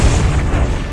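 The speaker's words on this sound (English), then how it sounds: "The explosion sends a trail of fiery fragments toward the continent below." A comet explodes high above a continent, sending fiery fragments downward: a loud, dense, low rumbling boom that fills the whole moment with a continuous roar and no pause.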